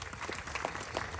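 A crowd at a gathering on the importance of donation clapping, a quiet patter of many hands that stays steady and continuous, heard from a distance.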